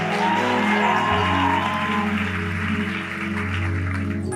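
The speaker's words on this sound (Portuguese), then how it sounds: "Aplaude mais forte." A church congregation applauds over sustained organ or keyboard chords, the clapping a soft continuous patter that gradually thins under the music.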